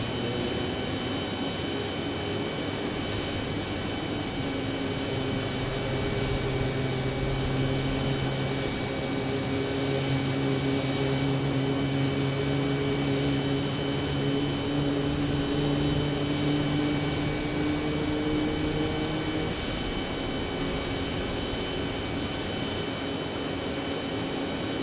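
A passenger airplane takes off from runway 26 at Phoenix Sky Harbor, bound for Las Vegas, its engines producing a steady loud roar with a rising and falling whine that holds for the whole stretch, with no voices.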